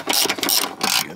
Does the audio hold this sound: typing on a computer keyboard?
no